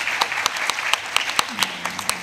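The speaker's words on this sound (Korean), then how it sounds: "박수 한번 부탁드리겠습니다." A forum audience at a public-private international open-government event gives a short round of applause: scattered, distinct hand claps at an uneven rhythm from a modest crowd, with a brief voice near the end.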